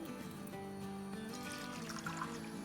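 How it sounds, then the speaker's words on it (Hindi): Two cups of water pour into a pan on a lit stove for a batt karahi, a steady soft trickle and splash with a faint ringing hum underneath. "इसमें अब हम डालेंगे 2 कप पानी"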